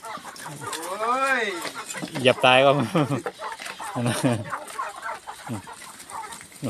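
Chickens cluck and squawk close by as a flock of Israeli-breed hens crowds around on a Thai farm, short excited calls mixed with someone talking over them.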